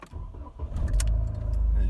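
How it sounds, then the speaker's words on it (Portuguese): A Jeep Renegade with a suspected low fuel-pressure fault cranks briefly and fires on the first try, settling into a steady low idle close by, with a faint jingle of keys. "Vamos ver se vai ligar agora na primeira partida"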